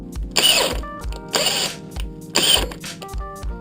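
A tap cuts threads into a lubricated aluminum hole on a Civic B16 oil distribution block, driven fast in repeated loud ratcheting, whirring bursts with a rhythmic mechanical pulse.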